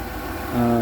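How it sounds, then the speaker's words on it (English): A 1997 Ford E-150 Econoline van's 5.4L V8 idles steadily and close by, a smooth low hum with a slight rise in level partway through; no one speaks. "The engine seems quieter than it was before."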